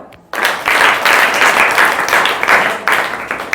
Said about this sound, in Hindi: अब क्लैप फॉर योरसेल्फ, अपने लिए खुद ताली बजाओ